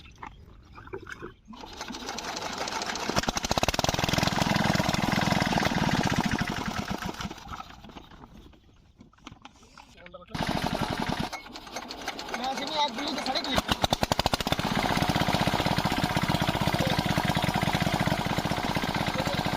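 A shallow-pump diesel engine runs just after a nozzle and plunger change, giving a loud, steady rapid clatter that dips briefly before resuming at full strength, with a voice now and then.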